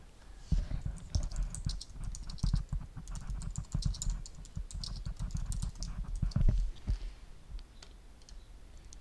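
Fingers type a comment on a computer keyboard in fast, uneven runs of close, crisp key clicks. Short pauses separate the runs, and the typing thins out toward the end.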